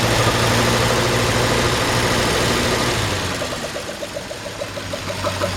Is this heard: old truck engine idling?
yes